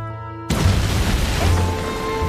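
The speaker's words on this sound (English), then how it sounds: "An explosion last night, sir." A wartime explosion set in 1940s Britain, a broad low boom bursting in at half a second after a tonal musical lead-in, then a sustained rumbling roar with crackling debris that stays loud to the end.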